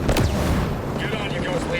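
Mortar fire in Ghost Recon Breakpoint lands as heavy booming blasts, one large impact near the start followed by rumbling, rolling noise, with voices talking through the din.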